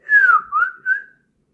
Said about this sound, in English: Yep, I can whistle.